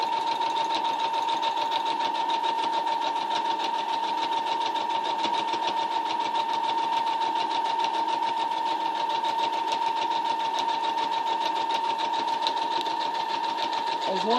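A sewing machine runs continuously at steady speed while stitching a fabric pocket bow, a close, even rapid whir with a constant mechanical tone and no pauses.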